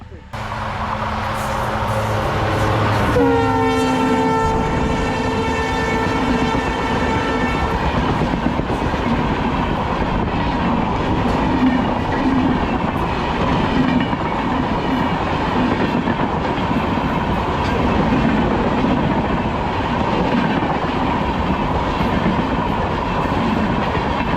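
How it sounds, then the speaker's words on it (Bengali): Train running on tracks between tea gardens near Siliguri, sounding a loud harmonic horn blast early, then a steady close rumble and clatter of passing wagons that continues loud throughout. "দুই পাশে চা বাগান আর মাঝখান দিয়ে ট্রেন লাইন সেই ট্রেনটা আসছে"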